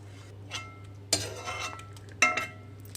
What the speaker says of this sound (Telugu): ఇప్పుడు నేను ఒక ప్లేట్లోకి తీసేసుకుంటున్నాను వీటన్నిటిని